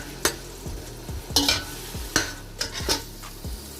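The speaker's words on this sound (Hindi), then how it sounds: "हम इसमें जो है टमाटर और सब्ज़ मिर्चें ऐड कर देंगे और इसको हम मिक्स कर लेते हैं" A spoon stirs tomatoes and green chillies into beef pulao, giving repeated scraping strokes and clinks against the pot over a quiet sizzle, close and steady, with no voices.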